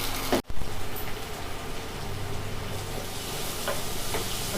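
Tomatoes sauté in a pan for a Nagercoil-style fish curry with a steady, close, rain-like sizzle. A brief dip in the sound comes near the start, and then the hiss continues evenly to the end.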